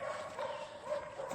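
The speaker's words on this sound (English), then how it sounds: "that's the neighbors' dogs that never get to come out" Neighbors' dogs, kept shut in, bark faintly from a distance outdoors in a residential neighborhood, a brief muffled burst.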